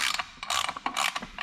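A ratchet tightening alternator mount bolts in a home garage, rapid bursts of metallic clicking in short strokes, close and loud, with no voices.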